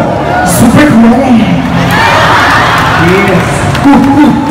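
A loud crowd of tourists at a show in Singapore cheers, shouts and whoops, with a presenter's voice talking over the noise throughout.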